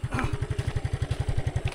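A motorcycle engine idles or putters nearby with a fast, even chain of low thumping pulses, carrying three riders, over faint background noise.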